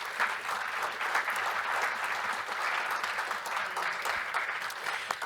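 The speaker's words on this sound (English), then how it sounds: "So if we give the Board of Education and Central Office a round of applause" An audience at a Howell Township Board of Education meeting claps for the board and central office staff, giving steady, dense applause that holds evenly throughout with no talking.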